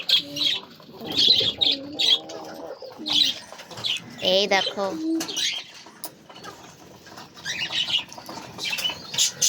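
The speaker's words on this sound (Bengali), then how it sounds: "আমাদের একটা গিরিবাস কবুতর" Giribaz pigeons coo and grumble close by, with short bursts of wing flapping and rustling; a person speaks briefly at times.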